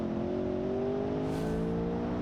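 Off-road muscle car engine in BeamNG.drive driving steadily, a continuous low droning hum with a slowly rising pitch and a brief whooshing swell midway, moderately quiet.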